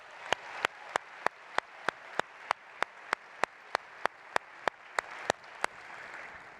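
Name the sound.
audience applause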